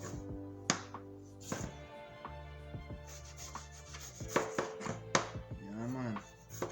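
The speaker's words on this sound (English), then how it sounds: "I'm just gonna cut it a smaller piece, put it directly in your blender" A knife chops fresh ginger into smaller pieces for a juice, giving a handful of sharp, close taps and scraping rubs on a board at irregular intervals, with faint background hum.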